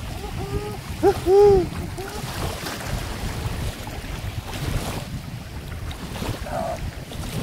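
Wind gusts buffet the microphone at a seaside beach, a steady rough rumble running throughout, with brief voices and a short tonal call near the start.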